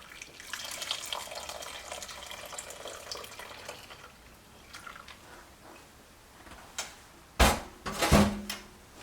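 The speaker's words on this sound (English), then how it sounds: "I'm going to go ahead and pour my sugar water into the butter." Sugar water poured into melted butter in a pan on the stove, a steady watery pour and sizzle, then a few louder sharp splashes and clatters near the end.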